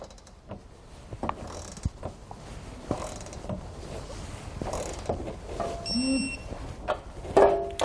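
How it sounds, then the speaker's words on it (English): A few sharp metallic clicks and ratcheting sounds from a torque wrench tightening trailer hitch bolts on a 2020 Hyundai Santa Fe, spaced irregularly, with faint mechanical clatter between them. "We can then go back and torque all the hardware to the specifications found in our instructions"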